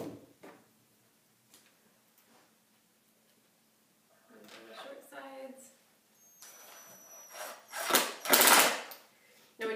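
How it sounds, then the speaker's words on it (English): A power screwdriver drives screws back into an upholstered footstool during a DIY makeover, with short, motor-whirring bursts after a quiet start, and a person speaks in between. "when you're screwing back in, the upholstered piece, you do need to be aware that when the screw goes through that and it's spinning"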